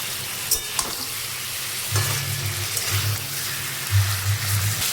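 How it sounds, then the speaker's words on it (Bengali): Marinated chicken frying in a pan and being stirred, with a continuous sizzle and repeated scraping strokes of the spatula, close and fairly loud. "চিকেনটাকে এভাবে কিছু সময় নেড়ে নিয়েছি"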